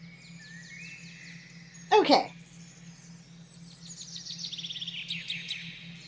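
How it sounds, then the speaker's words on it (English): Several birds chirp and sing in quick, high tweeting bursts, sparse at first and then denser toward the end, over a low steady hum, with a brief loud rustle and a short spoken word partway through. "what I hear is a bunch of birds"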